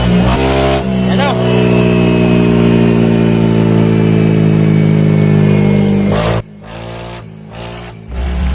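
A car engine run with its coolant drained, steaming as it is pushed hard, holds a loud sustained throttled roar for about six seconds. It then cuts away abruptly into quieter, uneven engine bursts.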